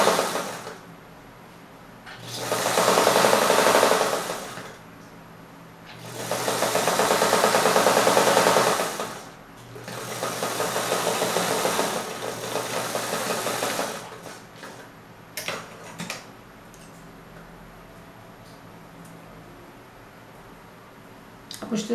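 A sewing machine stitching wide-leg trousers runs in three steady whirring bursts of a few seconds each, separated by pauses, followed by quieter clicks and handling noises.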